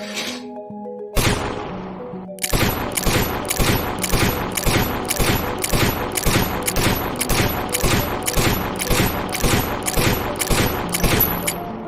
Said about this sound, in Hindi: इस तरह फुली ऑटोमेटिक मोड पर राइफल तब तक फायर करती रहती है जब तक ट्रिगर को रिलीज नहीं कर दिया जाता